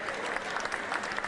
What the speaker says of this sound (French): je vais vous demander tous des applaudissements pour notre ami Jean-François Gobertier